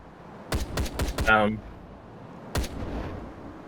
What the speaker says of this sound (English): how am I supposed to avoid the Gatling gunfire?